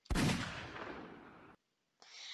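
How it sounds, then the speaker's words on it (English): A single loud pistol shot from the Joker's gun in the Minecraft Superheroes Unlimited mod cracks out sharply and decays over about a second and a half, followed by a brief hiss, with no talk over it. "Joker's pistol, as you would expect."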